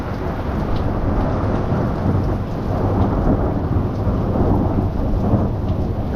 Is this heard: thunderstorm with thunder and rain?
yes